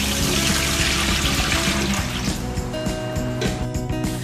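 Water poured out of an air fryer basket into a sink, a steady loud splashing and running flow that continues throughout with faint tonal clatter underneath.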